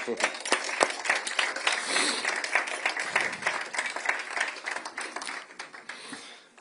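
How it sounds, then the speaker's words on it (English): A live audience applauds at a Nova music exhibition opening, dense clapping spread across the room and holding steady before tapering off near the end, with a voice briefly speaking over it. "please clap for them"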